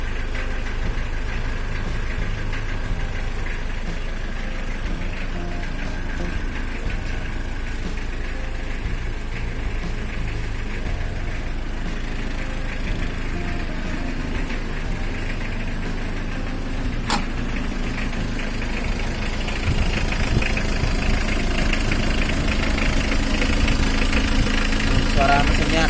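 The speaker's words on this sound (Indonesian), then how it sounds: "Suara mesinnya khas ya." Mitsubishi L300 pickup from 2020 with its diesel engine idling, a steady low rumble with slight vibration, close and continuous, growing a bit louder near the end.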